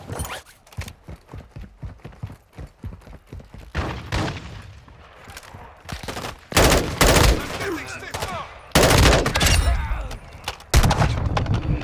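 Gunfire in the Call of Duty DMZ video game: rapid bursts of shots and loud cracking impacts, dense and close, with a few sharp booms.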